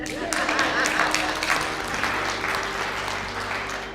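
An audience applauding steadily in a room, a dense wash of clapping that swells early and gradually fades over a few seconds, with a faint hum underneath.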